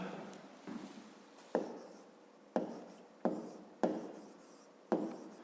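Hand-writing a fifth-grade math solution, about six distinct scratchy strokes spaced roughly a second apart, close and moderately quiet, each sharp at the start and trailing off, with no speech.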